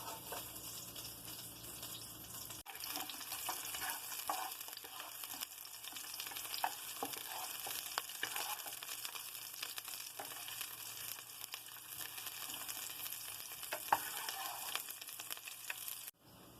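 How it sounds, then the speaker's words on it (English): Onion sautés in oil in a pan heated to medium high, making a quiet, continuous, even frying hiss that runs steadily for most of the stretch and then cuts off abruptly at the end. "the first thing we're going to do is saute our onion until it is soft"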